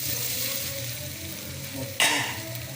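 Soya chunks fry in a little oil in a kadai over medium heat, giving a loud, steady, close sizzle throughout with a brief clatter near the end.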